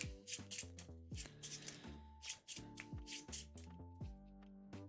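Game cards from the Chip Theory board game Dragons of Etchinstone are shuffled in a run of quick, crisp riffling bursts, heard over steady tonal background music.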